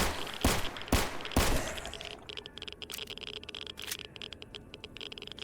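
Three sharp gunshots ring out close in the Stalker Anomaly survival shooter, then a quieter patter of clicks and rattles follows.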